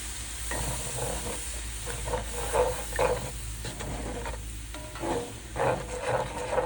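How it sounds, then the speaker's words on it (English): Sausage gravy bubbling and sizzling in a pan after milk is stirred into browned sausage and flour, a steady close hiss with soft stirring scrapes and pops, no talking. "So what we're going to do is add some milk in here."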